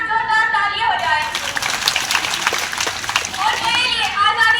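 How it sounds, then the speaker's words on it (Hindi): Applause for forefathers and freedom fighters at an Independence Day celebration, with clapping and children's voices mixing in a broad, steady crowd noise for most of the stretch, under speech at the start and end. "तो आज हमारे उन पूर्वजों के लिए एक बार जोरदार तालियां हो जाए"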